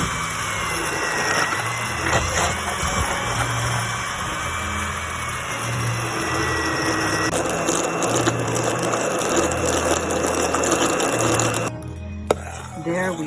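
A blender whirs steadily as it purees cooked white beans for a ham soup, with a continuous close motor drone under a voice that speaks intermittently.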